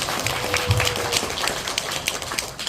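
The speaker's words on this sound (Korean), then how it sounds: "여러분 큰 박수 부탁드립니다" Indoor audience applause at a civic poetry-reading concert in a Wonju city library, a dense steady patter of many hands clapping with scattered louder claps, lasting throughout.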